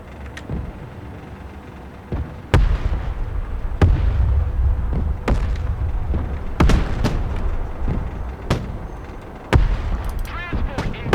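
Mortar rounds firing in the war game Broken Arrow, a series of sharp booming reports spaced a second or so apart over a continuous low rumble of vehicles and battle noise, with some distant pops in between.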